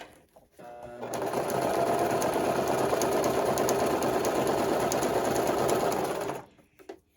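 A Brother LS 2125 sewing machine stitches a buttonhole, whirring loudly and steadily for about five seconds before stopping, with no talk over it.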